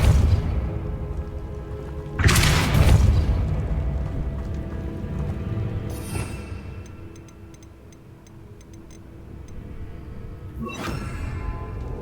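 The Depulso spell striking in Hogwarts Legacy, as a sudden loud whooshing burst followed by a rumbling decay, then a second sharper impact later, over a low ambient game background with faint ticking.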